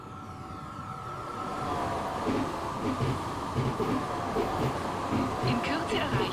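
CityJetXpress 6125 electric train running in Train Simulator, a rising hum and rolling rail rhythm with repeated wheel clacks building to a steady, fairly loud drive.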